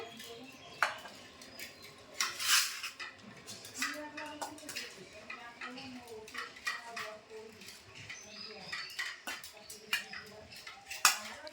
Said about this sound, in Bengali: কি হবে তো চলো এখন এদের খাওয়া দাওয়া চলছে